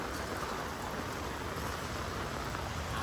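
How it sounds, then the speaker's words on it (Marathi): Heavy rain falling in Kalyan as a steady, even hiss that stays constant throughout, with no voices or thunder. "कल्याणला जाम पाऊस पडतोय"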